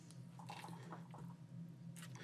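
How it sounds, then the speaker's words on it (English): A very wet water wipe is wrung out for painting a journal cover, giving soft squishing, dripping and trickling sounds over a steady low background hum, close and fairly quiet. "but I'm just going to squeeze it out a bit"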